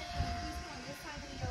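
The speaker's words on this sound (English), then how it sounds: "That's the freight train." A freight train rumbles past on Amtrak track in Mattoon, a steady low rolling roar with a faint tonal hum, close and continuous throughout, with some background voice-like noise.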